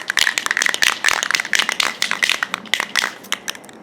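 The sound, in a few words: shaking a spray paint can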